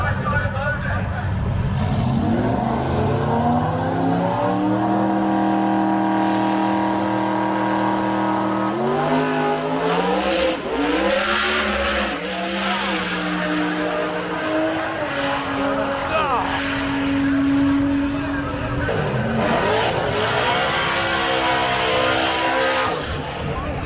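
Two turbocharged Mustangs race side by side at a Sick Week drag strip, engines loud and close as they rev, launch and climb through gears in rising and falling roars, with announcer talk running underneath throughout.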